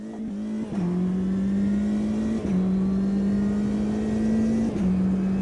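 Race car engine in Automobilista 2 lapping the Rouen circuit, a loud steady engine drone held at high revs with brief dips for gear shifts around one, two and a half, and four and a half seconds.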